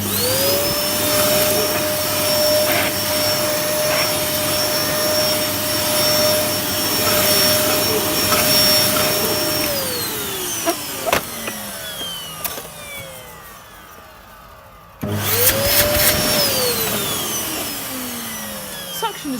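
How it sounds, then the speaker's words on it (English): A Hoover Dustmanager vacuum cleaner running loud and close with a steady whine, winding down and cutting off partway through, then switching on again with a rising motor whine. "Just going to vacuum around a bit more."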